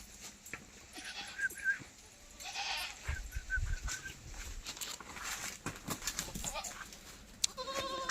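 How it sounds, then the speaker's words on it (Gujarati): Several goats bleat in short, scattered calls, some close and some farther off, amid rustling, patter and other farmyard noise at a fairly low level. "બકરા બધા આવી ગયા જો"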